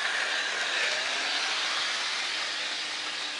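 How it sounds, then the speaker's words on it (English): A model railway train runs on a layout with a steady, smooth whirring hiss that holds constant and fades slightly near the end, no voices over it. "So now we've got the train running at a pretty smooth speed"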